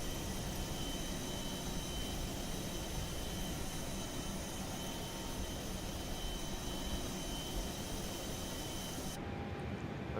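Steady jet engine hum from an A320neo in Microsoft Flight Simulator 2020 during startup at Lisbon, a constant faint broadband whine and rumble with tonal lines, unchanging throughout.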